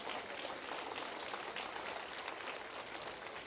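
A church congregation applauds in a steady, dense patter of hand claps, continuous and fairly faint, with no clear voices above it.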